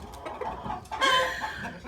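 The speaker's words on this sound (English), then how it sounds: "I'm about to remove this rooster over here off this hen" A rooster and hen on a homestead cluck and squawk close by, with soft scattered clucks first and then a louder, agitated burst of calling in the second half.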